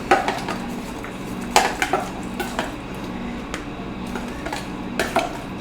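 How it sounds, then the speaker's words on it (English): A utensil stirs vegan onion flax cracker ingredients with rosemary in a bowl, making repeated close clinks and scrapes against the sides at an uneven rhythm. "So let's just stir these up a little bit."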